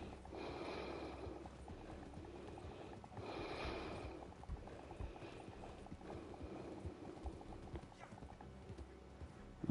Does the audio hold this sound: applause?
no